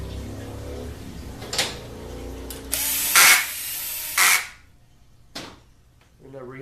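Power tool driving in two bolts during truck gearbox rebuild work, heard as short drill bursts around a second long with a louder sustained whir in the middle, set in a quiet workshop.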